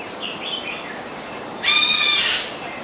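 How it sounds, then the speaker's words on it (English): Loud, harsh bird calls burst out for under a second amid faint chirping and background noise at an aviary in Kowloon Park, Hong Kong, where pheasants are kept. "And those birds are really mad."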